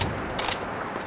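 A single burst of gunfire from a weapon in the survival shooter Once Human, a sharp crack followed by a short rattling echo, fairly loud and brief with no talking over it.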